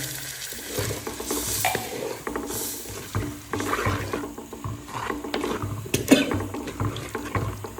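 Kudampuli (Malabar tamarind) soaking water is poured into a pan of fish curry, giving a steady splashing, bubbling wash that rises and falls in several surges with occasional sharp clinks, close and fairly loud.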